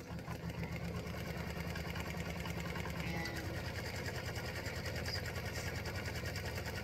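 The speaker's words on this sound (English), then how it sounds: "color stop number 1 is going to stitch a placement line" An embroidery machine runs steadily, stitching a placement line with a fast, even mechanical whir and rattle, quiet and continuous throughout.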